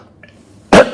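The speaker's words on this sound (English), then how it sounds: "I don't know why I'm coughing today" A single loud, close cough bursts out after a moment of near silence from an adult man at home.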